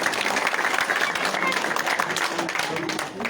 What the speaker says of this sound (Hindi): मैं आपसे गुजारिश करता हूँ कि जोरदार ताली के साथ उनको स्वागत करें